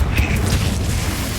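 A Confringo fire spell explodes in the Hogwarts Legacy video game. The blast is a dense, deep booming rumble that fills the whole short moment and sounds loud and close.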